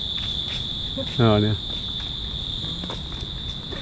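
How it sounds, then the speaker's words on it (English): A steady, shrill drone of cicadas buzzing continuously in the background near Byron Bay, Australia, with a brief spoken remark partway through. "Cicada noises."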